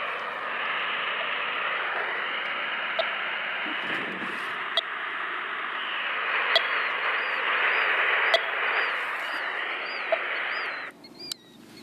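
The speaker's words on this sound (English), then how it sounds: "A louder beep indicates you're closer to the snake." A radio telemetry receiver tracking an Eastern hog-nosed snake gives steady hissing static with faint intermittent beeps, outdoors in grassland, ending abruptly near the end.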